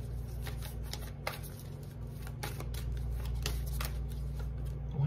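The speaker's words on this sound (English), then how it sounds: "Why am I still shuffling this deck?" A deck of tarot cards is shuffled close up in repeated soft riffling bursts, quiet and rhythmic over a low steady background hum.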